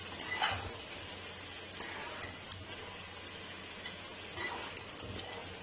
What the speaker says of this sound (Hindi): हल्दी पाउडर डालेंगे, अच्छी तरह मिक्स करेंगे मसालों को और थोड़ी देर के लिए मसालों के साथ भून लेंगे।